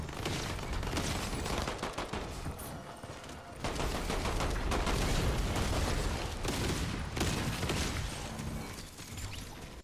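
Video game gunfire in an online shooter, a continuous rattle of rapid shots and bursts layered over a constant loud game din, with brief breaks and a few sharper hits.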